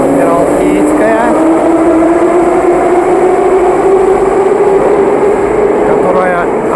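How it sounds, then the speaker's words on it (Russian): A metro train at Admiralteyskaya station in Saint Petersburg gives off a loud electric whine that climbs steadily in pitch as it accelerates, over dense rumbling platform noise. "Приехали на станцию метро Адмиралтейская"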